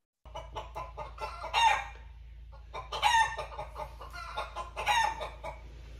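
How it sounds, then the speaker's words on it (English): Several chickens cluck and a rooster crows three times, each crow rising above the steady clucking, with a low hum underneath. "And so now here's chickens."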